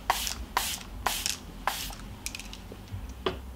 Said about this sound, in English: So this is the Pure Light Mist Blue Defense setting spray.